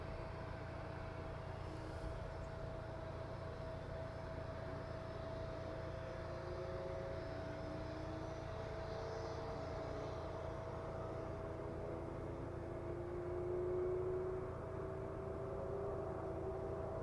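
A Gulfstream business jet departs runway 27 at East Midlands Airport, a faint, distant steady engine drone with a slowly shifting whine, heard from afar in an open outdoor setting without speech.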